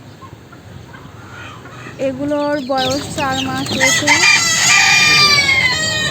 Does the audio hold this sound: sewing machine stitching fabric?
no